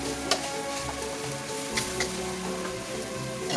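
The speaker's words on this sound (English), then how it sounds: "You just want to stir this until it all dissolves." A whisk stirs milk into a flour roux in a pan on the stove, a steady soft sizzling, bubbling stir with faint scrapes, continuous and close.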